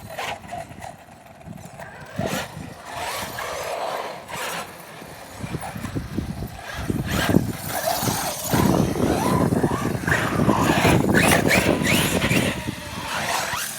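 Two RC buggies, an FTX Carnage and an HPI Trophy Flux, bashing around outdoors, their electric motors whining and tires scrabbling over rough ground in a continuous, building roar with scattered bumps and crunches.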